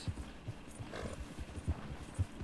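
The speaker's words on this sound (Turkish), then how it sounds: "Aha bizim Arap atı bu bu bu." Hooves of an Arabian horse galloping in the video game Red Dead Redemption 2, producing a rhythmic series of low, thudding clip-clop beats at a moderate distance, with no voices over them.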